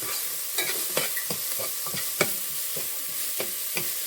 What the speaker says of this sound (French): je vais faire revenir mes oignons pendant 5 minutes